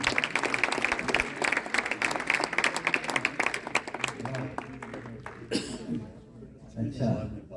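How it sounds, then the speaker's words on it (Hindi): An audience at a poetry book launch gives loud, sustained applause for a singer, a dense rattle of clapping that fades out toward the end as a voice speaks over it. "एक बार फिर जोरदार तालियां अंशुल साहब के लिए"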